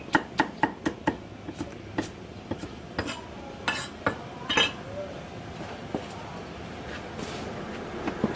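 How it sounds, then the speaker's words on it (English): A big old knife slices an onion very thinly at a Thai village street food stall, giving a series of sharp taps on a board, quick at first and then more spaced out, with clinks and background bustle around them. "Look how thin he cuts that onion. Really thin with a big old knife."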